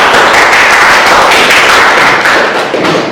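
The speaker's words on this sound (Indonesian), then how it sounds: "Oke, Surya, tepuk tangan dulu." Classroom applause from students in an Islamic jurisprudence lesson, a dense, steady patter of many hands clapping close by, sustained loudly throughout with no talking.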